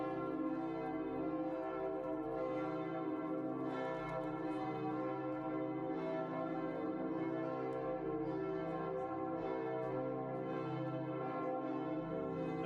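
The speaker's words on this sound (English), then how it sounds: "So always fun to listen to the church bells." Church bells in a Provence village ring a call to Mass, a sustained, rich peal of overlapping tones carrying evenly and somewhat distant throughout, with no talking.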